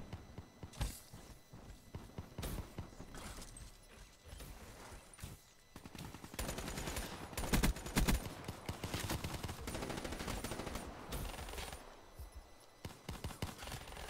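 Dense gunfire in the video game Black Ops 3, with rapid bursts and repeated shots running almost without pause, loud and close, mixed with footsteps and movement.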